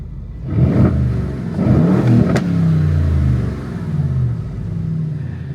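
An Aston Martin Vantage sports car engine revs up twice in quick bursts, then settles into a deep, rumbling idle, loud and close with no talking.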